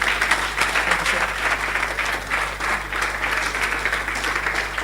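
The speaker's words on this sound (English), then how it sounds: "A real warm round of applause." Steady, loud audience applause fills a conference hall at a leadership and business event, a dense wash of many hands clapping continuously without a break.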